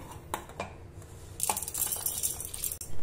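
Roasted dal and cashews tumble into a steel mixer-grinder jar with scattered light clinks and a soft, rattling patter, a few distinct taps first and then a busier pour.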